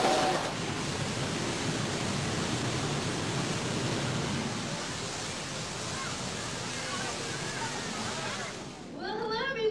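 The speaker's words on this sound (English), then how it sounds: "Explore the waterfalls and rapids from close up." Rushing water from waterfalls and rapids at Knott's Berry Farm theme park in 1998, a steady broadband roar that fills the whole stretch close up and loud, with a faint voice near the end.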